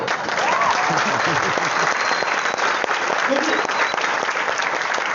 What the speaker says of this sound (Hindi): लेकिन ताली बजाओ।